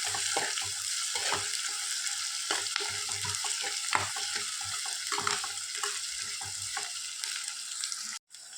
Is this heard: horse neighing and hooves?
no